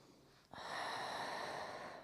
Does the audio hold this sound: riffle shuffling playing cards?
no